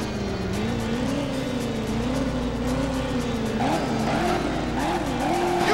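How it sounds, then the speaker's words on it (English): A car in the Driver video game does a burnout and handbrake skid, with a revving engine whose pitch wavers and climbs alongside continuous tire squeal, loud and sustained throughout. "So we got a burnout, handbrake."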